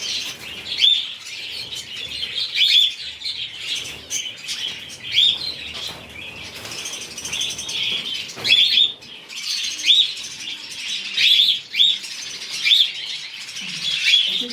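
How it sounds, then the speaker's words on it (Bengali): Cockatiels and other aviary birds chirp in repeated bright, bursting calls over a steady chatter of twittering and wing flutters, fairly close and continuous, with no talking. "বাহ, ককটেলগুলো দেখো, প্যাচিলাস ককটেলগুলো খুবই সুন্দর আছে"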